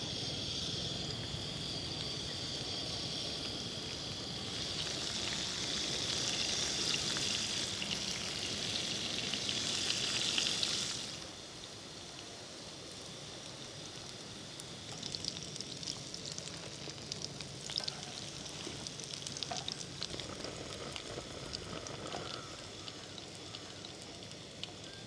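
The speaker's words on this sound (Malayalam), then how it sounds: "ഇതിനകത്തോട്ട് വെളിച്ചെണ്ണ ഒഴിച്ച് നമുക്ക് ഇതെല്ലാം വറുത്തെടുക്കാം" Coconut oil poured into a hot pan, then chicken fry ingredients sizzle and crackle loudly; the hiss swells, drops suddenly and continues more quietly with scattered pops.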